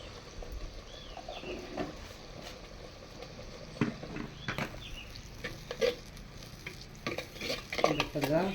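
Ingredients for a fish curry sauté in a pan with a low sizzle and frequent close scrapes and knocks of a stirring spoon, irregular and moderately loud, with no talking.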